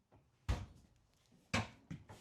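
A large pot and pan drawer in an RV kitchen is worked: a soft slide, then two sharp close knocks about a second apart with a lighter clack after, and no talking.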